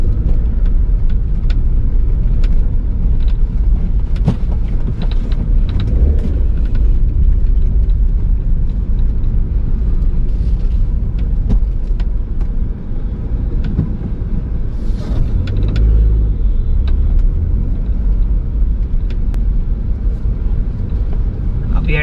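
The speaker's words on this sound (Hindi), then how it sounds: "यहाँ पे जाम लगा हुआ है बहुत जबरदस्त।" Steady low road rumble from cars idling and creeping in a monsoon traffic jam on the Delhi–Shimla highway, heard from inside a car, a continuous drone with occasional passing vehicle swells and faint voices.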